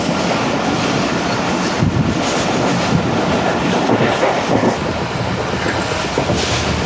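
Continuous loud rumble and rhythmic clatter of the Pak Business Express on Pakistan Railway at high speed, with steady wheel-on-rail noise heard close from inside the train throughout.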